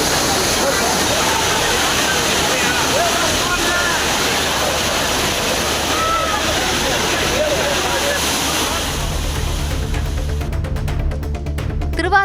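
Kaviyaruvi waterfall pours in a steady, loud roar that fills the whole stretch, with tourists bathing in the cold water beneath it; the rush continues without a break.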